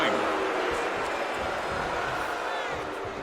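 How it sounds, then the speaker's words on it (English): Arena crowd in WWE 2K25 during a wrestling match: a broad, sustained roar of cheering that fades slightly, with commentary voices mixed in. "the crowd going"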